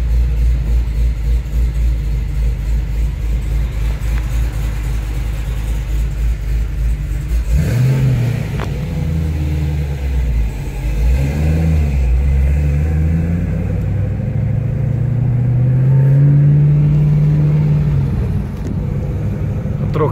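A Chevrolet Camaro ZL1's engine rumbles at a deep idle, then roars under hard acceleration, revs climbing and dropping across gear changes before building again to a loud, sustained, close-up drone heard from inside the car.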